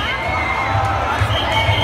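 A crowd at a live performance cheers and shouts in a steady, dense roar that sounds fairly distant, with a voice over the top.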